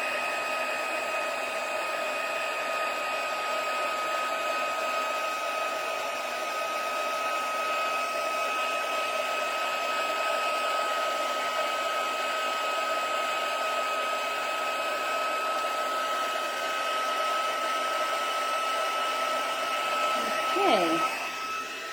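A heat tool melts embossing powder for a card border, blowing as a steady, fairly loud whooshing hum that runs unbroken and alone throughout, with a slight shift near the end.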